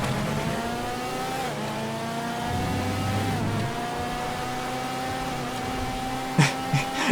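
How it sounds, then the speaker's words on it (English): A steady, sustained roar from an Impaler drag car engine running at high speed in GTA FiveM, with gear-shift dips in pitch and a few sharp knocks near the end. "Impaler drag going Mach 12 into a 3-degree angled road."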